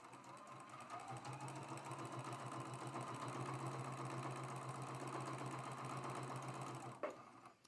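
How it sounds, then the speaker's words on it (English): A sewing machine stitches quilt triangles one after another in a continuous, fairly quiet mechanical hum and rapid rattle, holding steady for several seconds before a brief clunk and stop at the end, with no talk. "Lining them up and sewing one right after the other."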